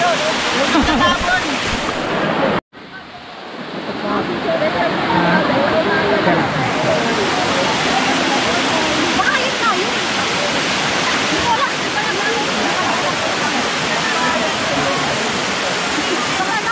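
Eva Falls waterfall roars in a dense, continuous rush of falling water, loud and close, with people talking over it and a brief dropout early on.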